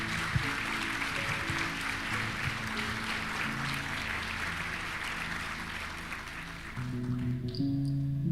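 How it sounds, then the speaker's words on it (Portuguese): Applause from a church congregation fills the space, sustained clapping that swells and then fades, followed by a brief low murmur at the end. "Você consegue aplaudir Jesus nessa manhã?"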